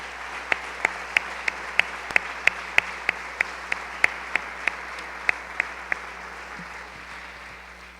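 Congregation at a Sunday church service clapping in unison as an offering of praise, roughly fifteen sharp, evenly spaced claps over six seconds that then stop, leaving a low steady hum.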